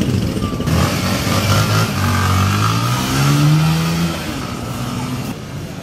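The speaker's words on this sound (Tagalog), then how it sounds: "Pakinggan nyo ang swabing tunog at hatak ng makina pag tumakbo na" A motorcycle engine runs close by, pulling steadily with a couple of rising revs over several seconds before easing off slightly, loud and continuous.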